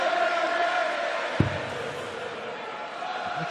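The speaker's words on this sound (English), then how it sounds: "Crowd responding." A darts crowd at a Players Championship Finals match, a steady murmuring roar of many voices and a sharp thump partway through, with a commentator talking over it.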